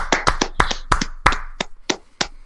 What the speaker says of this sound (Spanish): Han empezado los aplausos ya.